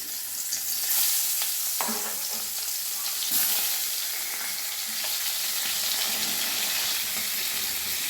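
Koi fish frying in hot mustard oil in a wok, a continuous loud sizzle and crackle with a few sharper pops and spatters, close up, with no talk.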